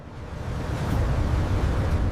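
Sea waves crash as parted waters close back in, a dense, rumbling surge that swells from quieter to louder and holds steady as a continuous roar.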